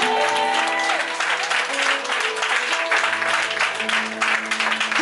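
Loud, sustained clapping and acclaim fill a Sunday church worship service as the congregation honours Jesus. Steady close applause runs through the whole stretch, with shouting voices and held musical tones underneath.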